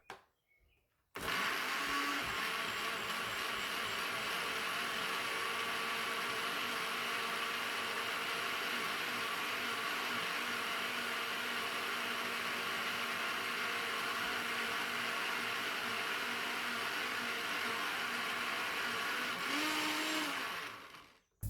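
A cheap high-street blender purees basil, tinned tomatoes and seasoning, whirring in one loud, steady, continuous run of about twenty seconds that starts and stops abruptly.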